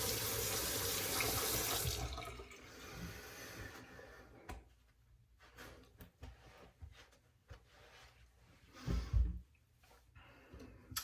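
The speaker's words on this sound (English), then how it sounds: "Break out cold water for closing the pores." Cold water runs from a bathroom tap during a wet shave routine, a loud steady gush for about two seconds, then stops, followed by scattered faint clinks and knocks.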